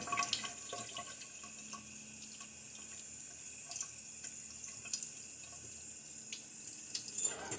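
Tap water running in a kitchen sink to rinse steak, a faint, steady hiss of flowing water that swells slightly near the end, with no talk.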